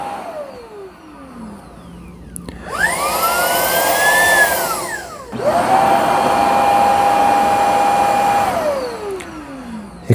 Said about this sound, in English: if I put it in the dock, kind of get it lined up right there, it auto empties